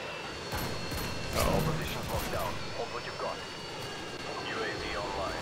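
A Harrier jet in the video game Modern Warfare 2 roars through a ground war match on a submarine base map, a sustained engine whine with mechanical clatter and faint game effects, at moderate loudness under a steady background.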